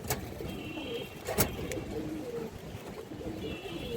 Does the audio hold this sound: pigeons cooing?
yes